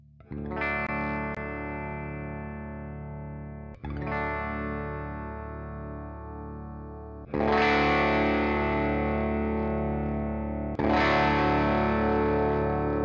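An open chord strummed on an electric guitar through a combo amp rings out four times, each sustained strum decaying slowly before the next, with a bright effected tone and no voices.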